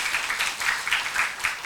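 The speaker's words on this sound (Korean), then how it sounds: "감사의 박수 부탁드리겠습니다." Congregation applause in a church service, steady dense clapping filling the room at moderate loudness for the whole stretch, with no speech over it.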